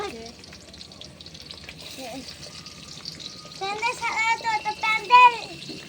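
Food fries in oil over an open fire at a rooftop picnic, a steady sizzle running throughout, with nearby voices, including a child's, chattering over it and growing louder toward the end.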